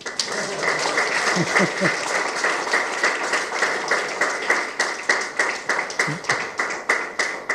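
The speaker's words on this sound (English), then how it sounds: "Let us clap for the entire group that he showed to us." A lecture audience claps for a presenting group at a talk on the largest structure in the Universe, a lively spread of hand claps with a few sharp nearby claps standing out and settling into a rhythmic beat toward the end.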